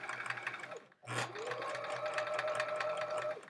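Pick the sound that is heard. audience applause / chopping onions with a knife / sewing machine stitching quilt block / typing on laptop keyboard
sewing machine stitching quilt block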